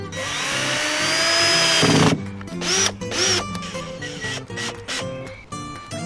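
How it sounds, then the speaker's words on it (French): Power drill driving pre-set screws into a pallet plank in a workshop, a sustained whirring run for about two seconds followed by several shorter bursts and clicks. "Pour avoir plus facile, je vais prévisser avant la planche."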